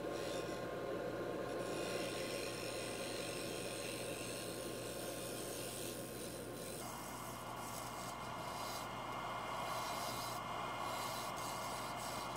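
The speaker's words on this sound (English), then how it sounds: "Here I switched over to the Jimmy Clu's hollowing tool" A hollowing tool cutting maple on a wood lathe gives a continuous, steady rasping hiss with a constant motor drone underneath, shifting tone slightly partway through.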